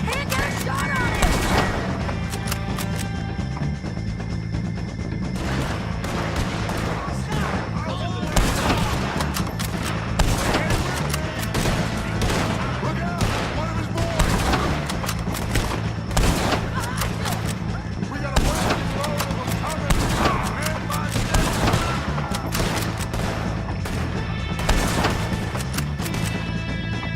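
Repeated gunfire in Red Dead Redemption 2, dense volleys of sharp shots cracking in irregular bursts throughout, loud and close, with a tense voice talking over parts of it.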